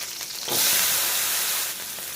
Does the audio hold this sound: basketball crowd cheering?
no